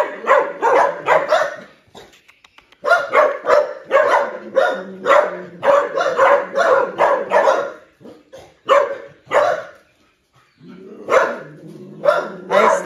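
Frightened rescued stray dogs, three male mixed-breed village dogs, bark in repeated loud bursts with short gaps and brief whimpers, the barking rising and falling close by.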